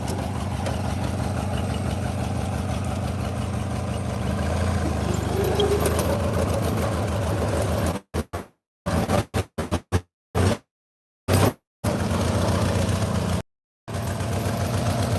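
A car engine idles while warming up, a steady, close mid-pitched rumble running for several seconds before the sound cuts out in repeated gaps and dropouts, with no talking.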